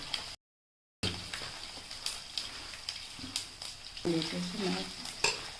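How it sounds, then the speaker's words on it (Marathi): Poha being mixed with salt by hand, heard as soft close rustling and shuffling, fairly quiet and continuous after a brief gap of silence, with a few light clatters near the end. "आणि मीठ याच्यात सगळं टाकून सगळं चांगलं हाताने मिक्स करून घ्या"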